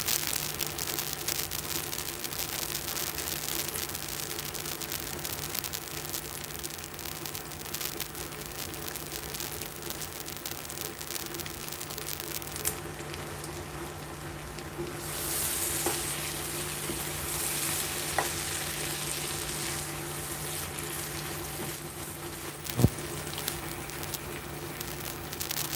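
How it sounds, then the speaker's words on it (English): Soup frying on high heat gives a steady, dense crackle rather than a smooth sizzle, holding close and even for the whole stretch with a sharp pop near the end. "it's not a sizzle, it's more of a crackle"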